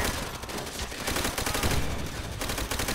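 Gunfire in the video game Call of Duty: World at War, a dense continuous stream of rapid shots filling three seconds at steady loudness, with no voices.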